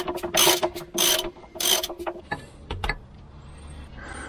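The rear drive chain of a 12-ton grader is worked by hand, giving a few loud metallic clanks and rattles in quick succession, then a couple of sharp knocks before the sound fades to quiet.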